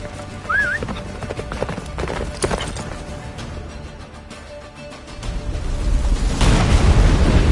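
Roach, Geralt's horse in The Witcher 3, gallops hard with a steady, rapid clip-clop of hooves, close and loud, set against rumbling booms and battle noise that swell toward the end.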